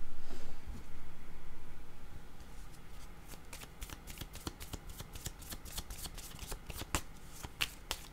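A deck of playing cards being shuffled close by, a rapid series of crisp riffling snaps that speed up and continue steadily, heard alone without talk.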